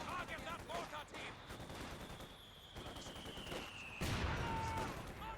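Gunfire in the World War II strategy video game Company of Heroes, with scattered rifle and machine-gun bursts and a louder impact near the end, mixed under in-game unit voice lines.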